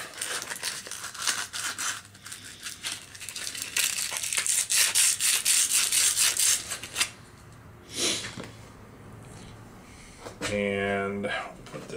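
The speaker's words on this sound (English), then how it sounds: "Grab a little sand cloth here," Sand cloth rubbed over a metal part of a Fuller Johnson 5 HP hit-and-miss engine during a rebuild, giving dense, steady scratchy abrasion for several seconds, then a few short scrapes and a clatter near the end.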